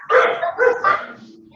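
A dog barks three times in quick succession, loud and close, during an online class lecture, followed by a softer trailing whine.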